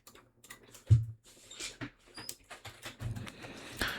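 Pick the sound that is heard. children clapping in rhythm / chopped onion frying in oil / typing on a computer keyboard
typing on a computer keyboard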